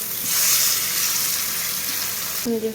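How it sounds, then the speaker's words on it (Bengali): Chicken pieces frying in ghee in a pan, a loud, steady close-up sizzle that continues throughout with no talking. "চিকেনগুলো প্রথমে ফ্রাই করে একটু তুলে রাখবো, তারপরে মশলা দিয়ে কষবো"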